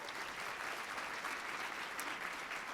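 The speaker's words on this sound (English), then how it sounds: "Give Abby a round of applause." An audience at a Toronto education tribute event applauding a student innovator, a dense, steady wash of clapping from many hands in a hall, moderately loud and unbroken throughout.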